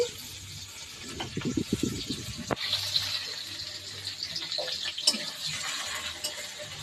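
Water pours into a pot while pasta cooks, a steady splashing gush close by, with a faint sizzle in the kitchen.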